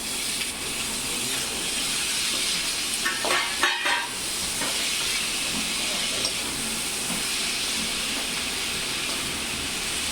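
Tomatoes tipped into a pan of cooked carrots hiss and sizzle steadily, with a brief burst of stirring clatter partway through, close and continuous with no talking.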